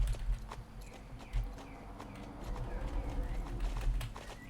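Appaloosa horse galloping in the online game Star Stable Online: a steady run of hoof clops with faint bird coos in the background.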